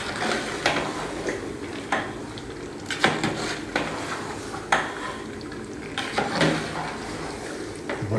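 A utensil stirs a large pot of chicken biryani, scraping and clanking against the metal in uneven heavy strokes roughly once a second, loud and close.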